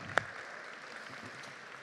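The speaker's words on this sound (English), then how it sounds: "Let's give them a round of applause." An audience at the 2024 Discovery Awards applauds the honorees with a faint, steady patter of clapping heard from a distance, and one sharper clap stands out near the start.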